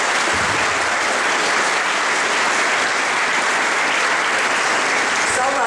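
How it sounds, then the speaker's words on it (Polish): An audience claps in dense, sustained applause for a school director at a formal school visit. The clapping runs loud and steady throughout. "muszę powiedzieć jedno brawo dla pani dyrektor"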